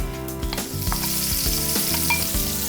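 Sliced onion hits hot sunflower oil with cumin seeds in a preheated pan, a loud, close, continuous sizzle with a few stirring scrapes and no talk.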